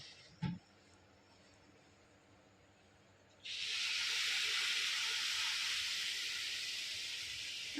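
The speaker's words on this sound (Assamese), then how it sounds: "এতিয়া ইয়াতে মই গাখীৰ ঢালি দিম।" Milk poured into a hot pan of fried coconut semolina sets off a loud, steady steaming hiss that begins abruptly partway through and continues to the end, after a brief faint clink and a quiet stretch.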